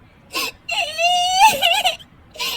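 A girl wails and whimpers in a high, drawn-out cry, with short sobbing breaths before and after, close and fairly loud.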